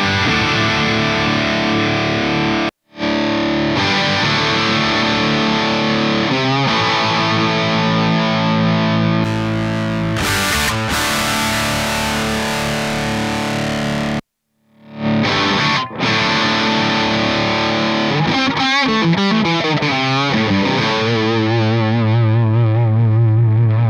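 Distorted electric guitar played through a Laney IRF amp head, switching between 4x12 and 1x12 cab simulations and bypass, loud and continuous with brief silent gaps as the settings change.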